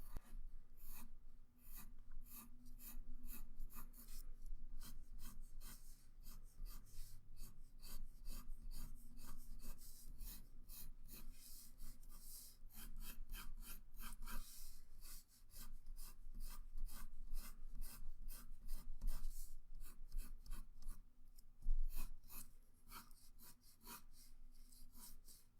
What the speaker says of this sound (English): So I'm going to go ahead and erase that.